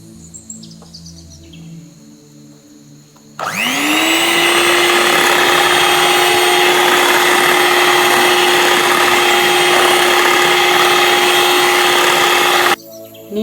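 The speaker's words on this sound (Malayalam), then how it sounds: "അതും നന്നായിട്ട് ഒരു 1/2 ടീസ്പൂൺ ഉപ്പും കൂടെ ഇട്ട് നന്നായിട്ട് ബീറ്റ് ചെയ്തെടുക്കാം." After a few quiet seconds, an electric beater whips eggs with salt for an omelette. It runs as a loud, steady, high-pitched whir for about nine seconds, then cuts off abruptly.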